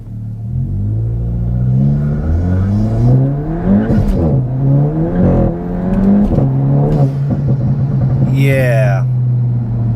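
A Volkswagen Golf GTI stage 1 engine revs hard in first gear from a stop and climbs in pitch as it accelerates, loud and close, with a voice talking over it and a squeal of tires near the end.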